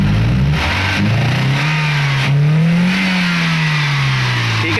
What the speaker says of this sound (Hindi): गाड़ी स्टार्ट करें, स्टार्ट करना भाई